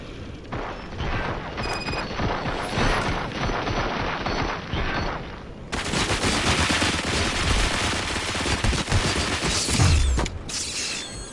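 Gunfire from the Robocop video game: dense, loud bursts of machine-gun shots and mechanical clatter with a short pause in the middle, then a heavier barrage. No one speaks.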